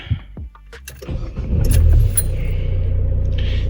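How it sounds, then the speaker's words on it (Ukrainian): A Renault Kangoo 2 is started: keys jangle, the starter cranks, and the engine catches and settles into a close, steady idle. "Давайте запустимо автомобіль"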